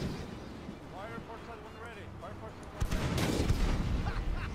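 Ship cannons fire in the naval game Blackwake: a heavy, loud boom bursts out near the end and rumbles on, after a stretch of someone talking over faint background noise.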